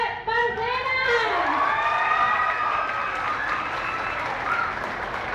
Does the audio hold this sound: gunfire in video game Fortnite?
no